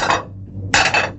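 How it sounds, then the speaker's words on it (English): A knife slices a melon into thin, regular slices, giving two short crisp cutting bursts separated by a brief pause, close up and clear with no talk. "And now I'll cut it into thin, regular slices."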